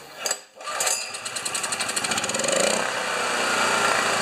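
A Honda EB2200X generator with a starting problem is pulled over and catches, settling into a loud, steady, close-up engine run with no talk.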